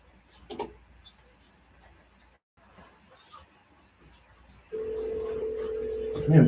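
A telephone dials with a couple of faint tones early, then a steady loud dial tone rises in the second half, ending in a brief louder burst.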